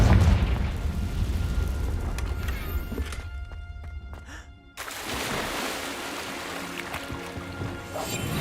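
A Confringo blasting-spell explosion in Hogwarts Legacy: a loud, sustained rumbling blast that cuts out briefly into a quieter magical shimmer, then a second heavy roaring burst follows.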